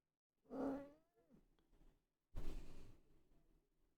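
A grumpy cat lets out a close, low growl that rises into a short moaning yowl, goes quiet, then gives a second harsh growling burst.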